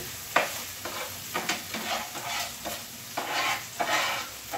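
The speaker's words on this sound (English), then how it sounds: "There we go again, frying food, right?" Onion rings sizzle and crackle in hot oil while stirred, soft scraping bursts recurring every second or so, close by with no talking.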